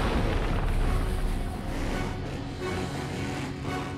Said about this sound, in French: Cette explosion, c'est toi?